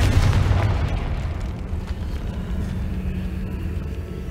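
Confringo fire spell detonating in Hogwarts Legacy, a single deep boom at the start that rolls into a long, steady low rumble fading slowly, loud and close with no talk.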